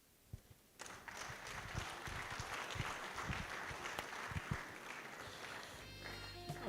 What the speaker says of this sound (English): I thought that applause was not rich enough.